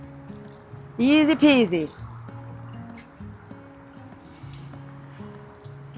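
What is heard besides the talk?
watering newly planted lettuce seeds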